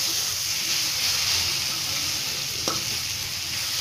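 Cabbage and peas sizzling in a hot pan while being stirred, a steady close frying hiss with faint scraping and one brief knock.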